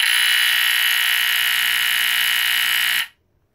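BRK 769AC smoke detector sounding its test alarm: a loud, piercing, continuous high-pitched tone holds steady for about three seconds, then cuts off into silence.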